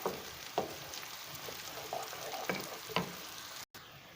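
Onions fry in a pan for Sindhi kabab karahi, giving a steady close sizzle with occasional stirring scrapes and louder pops.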